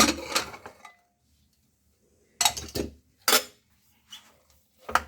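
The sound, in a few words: opening a pressure cooker lid, metal clinking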